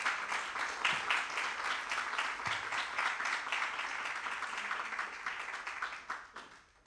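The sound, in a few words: audience applause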